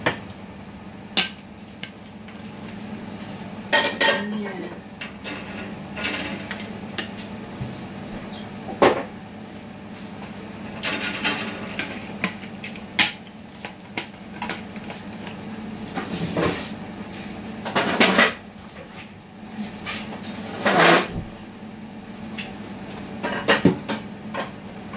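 Plates are put away into a kitchen cupboard over a long stretch of repeated clatters, knocks and sharp dish clinks, with a cupboard door thumping now and then against a steady room hum.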